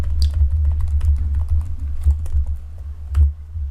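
Fingers tap out card details on a computer keyboard, a quick run of soft clicking keystrokes over a low steady hum, close and alone.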